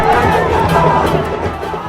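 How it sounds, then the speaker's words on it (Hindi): A large crowd of party workers gathers at a political road show in Patna, producing a loud, continuous roar of mingled shouting, cheering and chatter that eases slightly toward the end. "जेपी नड्डा के इस रोड शो में हजारों की संख्या में कार्यकर्ता शामिल हुए"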